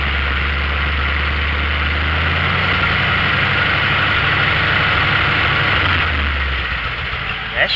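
A vehicle engine with a suspected low-transmission-fluid torque converter problem runs at a steady, loud idle, a heavy low drone with constant vibration close by, tapering slightly near the end.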